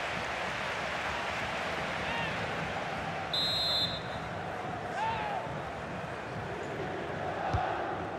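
Stadium crowd noise during a FIFA 23 preseason friendly between Napoli and Hatayspor on PS5, heard as a steady, broad roar of applause and cheering that runs throughout, with a brief high electronic tone partway through.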